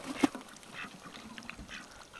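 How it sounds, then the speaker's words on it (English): Ducks quack in a snowy chicken yard as they try to bathe in water, with one clear close call and softer scattered sounds after it, no talking. "And the ducks. Trying to take a bath in the water."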